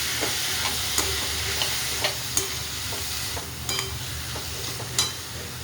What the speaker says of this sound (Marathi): सगळे दोडके टाकून घेतलेले आता एकजीव करते.